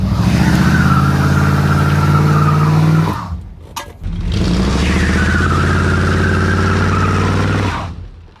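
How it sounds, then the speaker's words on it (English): A 1968 Ford XL is revved hard in low gear, two loud sustained engine roars with rising pitch separated by a brief drop, close and dominant with a possible tire squeal. "Put her in low and hang on for the ride."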